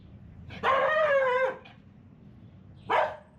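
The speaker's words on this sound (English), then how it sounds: "There's a ton of dogs in Costa Rica. They're always barking." A dog in Costa Rica barks or howls in a drawn-out, tonal call, followed a moment later by a shorter second bark, over faint background noise.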